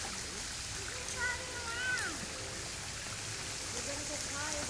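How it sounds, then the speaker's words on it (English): Broadband rush of water flowing down at Waterfall Glen, steady and continuous, with faint bird-like chirps over it. "on the bottom here is where the water's coming down"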